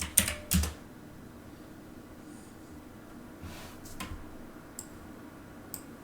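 Someone types on a computer keyboard, leaving a few scattered, faint key clicks with quiet gaps between them, over a soft room hum and no talk.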